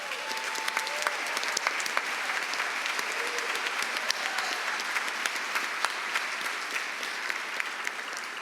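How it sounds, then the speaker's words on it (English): Sustained, dense audience applause at a Chicago Bar Association annual meeting honoring the association's past presidents, steady and full for the whole stretch with no speech over it. "Please rise so we can give you a round of applause."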